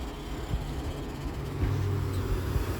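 Road traffic rumbles nearby, low vehicle engines passing and droning with a few brief thumps, moderately loud and continuous.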